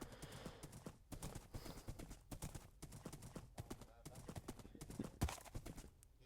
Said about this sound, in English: the horses are out